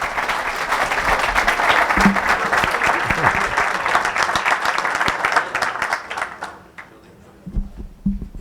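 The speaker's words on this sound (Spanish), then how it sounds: "Un fuerte aplauso para el doctor Haber." An audience at a conference on carbon dioxide gives a speaker a long round of dense, sustained clapping that thins out and fades near the end, with a few scattered claps trailing after.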